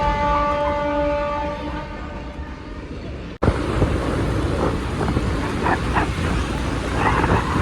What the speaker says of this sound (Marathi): नेहमी ट्रेनचा आवाज येत असतो